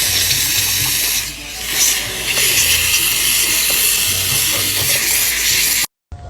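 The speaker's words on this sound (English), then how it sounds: "Let's see if the steamer will remove" A steam cleaner hisses and sprays on gum spots inside a car interior, a loud, steady close jet that runs for several seconds and then cuts off abruptly.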